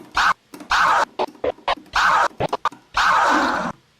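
Record scratching on a DJ turntable, the second bar of a scratch pattern: a rhythmic run of short and longer back-and-forth scratch strokes, crisp and close with no talk.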